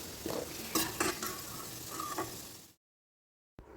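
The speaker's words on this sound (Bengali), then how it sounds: "আলুগুলো ঠিক এরকম লাল করে ভেজে নিতে হবে" Potatoes frying in oil in a kadai sizzle with scraping stirs of a spatula against the pan, then the sound cuts to silence briefly before resuming.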